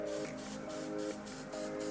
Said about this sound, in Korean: 이제 스프레이를 뿌려보겠습니다